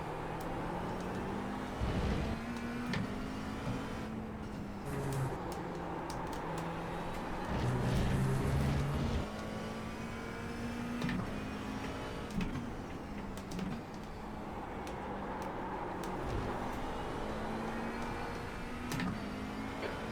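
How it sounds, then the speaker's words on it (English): A McLaren 720S GT3 EVO race car engine in the iRacing simulator drones steadily for twenty seconds with a humming, slightly whining tone that shifts pitch gently, with no voices. "we'll get some external shots so you can listen to those"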